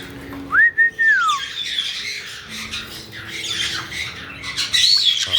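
Pet bird giving a loud, sharp squawk that rises and falls, followed by softer chattering and whistly squeaks indoors, close and prominent with no talking over it.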